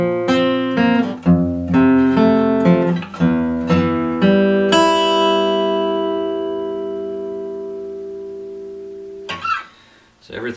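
An acoustic guitar slowly plays part of a song, a few plucked notes and chords before one sustained chord rings out and fades over several seconds, close and clear.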